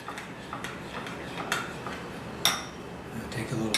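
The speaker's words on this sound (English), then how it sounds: "Mix it all together." A spoon stirs acorn squash soup in a bowl, giving light, evenly spaced clinks and taps up close, with one sharper knock near the end.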